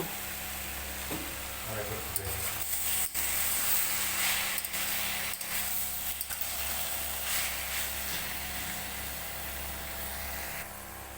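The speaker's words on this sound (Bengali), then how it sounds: "দু মিনিট হয়ে গেছে নেড়ে চেড়ে নেব" Pumpkin leaves cooking in a pan, with a steady low sizzle and faint stirring scrapes running throughout, fairly quiet and continuous.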